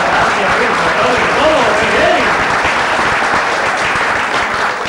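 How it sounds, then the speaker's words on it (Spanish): Audience applause at a dinner event in Santa Margalida, Mallorca, a dense, steady wash of many hands clapping that fills the whole stretch at a loud, close level. "El aplauso es el alimento del artista"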